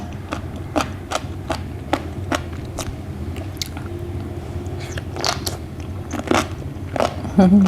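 Loud, close crunchy bites into a large fried giant water beetle, a rapid series of sharp brittle cracks and crackles followed by wet chewing, with no talking.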